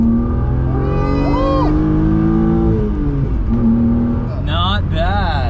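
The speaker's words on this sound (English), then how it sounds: "we'll give it a little gas here" A BMW E36 M3 coupe with a five-speed manual revs its engine up and down in loud, steady pulls, with occasional tonal whines and brief exclamations from people nearby.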